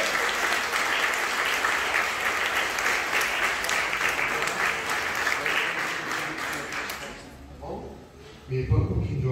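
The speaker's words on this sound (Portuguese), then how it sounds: "Então vamos aplaudir o Senhor." A church congregation applauds with sustained, dense clapping for about seven seconds, then fades out as a voice speaks close by.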